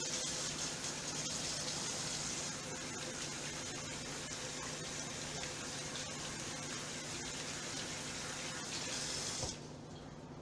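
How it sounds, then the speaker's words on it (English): Hands washed under a running kitchen tap: a soft, continuous stream of water splashing into a sink for about nine seconds, then it stops, leaving near silence. "I'm gonna wash my hands"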